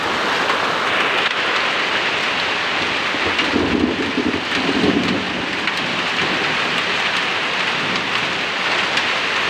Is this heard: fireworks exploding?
no